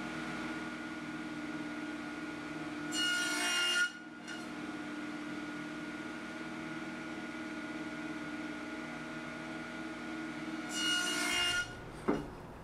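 A saw cuts a dado groove into a wooden fence for a finger joint jig without a dedicated dado sled, giving two separate rasping, whirring passes of about a second each over a steady motor hum, ending with a short knock.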